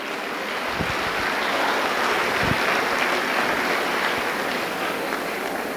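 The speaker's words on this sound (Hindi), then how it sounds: "पुनः तालियां बजाकर मुझे आदेशित कीजिए कि मुझे आगे पढ़ना है" An audience at a motivational Hindi poetry recital (kavi sammelan) gives sustained, dense applause that hisses evenly throughout, loud and continuous with no voices.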